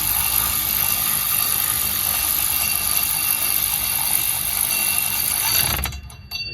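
A hub bolt on a Buick/Cadillac/Chevy/Oldsmobile wheel hub assembly is snugged down with an electric impact wrench, giving a steady, loud, continuous whirring hammer that runs for several seconds and then cuts off abruptly near the end.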